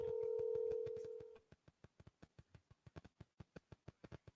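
A telephone handset gives a steady dial tone, then a run of evenly spaced keypad tones, about twenty short beeps in a regular rhythm, close and clear with no talk.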